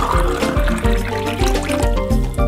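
Water pouring into a drinking glass, a steady liquid fill with a trickling, gurgling texture and repeated low pulses across the pour, close and fairly loud with no talking.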